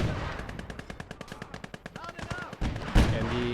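Automatic gunfire in the WWII tank and infantry video game Gates of Hell: Ostfront. A rapid run of sharp machine-gun bursts rattles steadily, and heavier booming shots land near the end.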